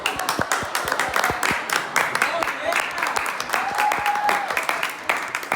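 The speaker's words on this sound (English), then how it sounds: "Everybody clap it up, clap it up." A group of people claps together in a dense, continuous patter of hand claps, with voices talking and calling out over the clapping throughout.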